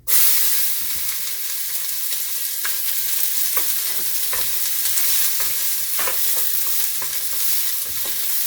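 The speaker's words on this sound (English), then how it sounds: "We're going to add our onions and Daniel's going to saute these with a spoon" Onions sizzle in hot avocado oil in a pan for Thai butternut squash soup, a steady bright frying hiss punctuated by soft scrapes and taps of a spoon stirring them.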